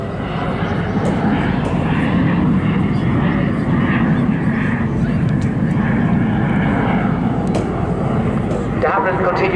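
A de Havilland Vampire FB52 jet roars overhead at an airshow, pulling around in a barrel turn with a steady loud engine rumble throughout. An announcer speaks over it.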